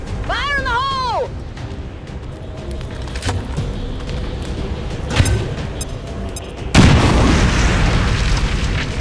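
A grenade explodes in XCOM 2 with a deep heavy boom and a rumbling tail that follows a burst of game voices and battlefield noise.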